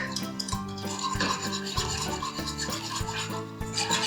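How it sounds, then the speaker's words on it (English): A whisk rubs and scrapes steadily around a bowl as custard powder is stirred into heated milk for a passion fruit panna cotta, making a rhythmic swishing loud and close with no talking. "And then here we have some heated milk. We're going to sprinkle this over and whisk."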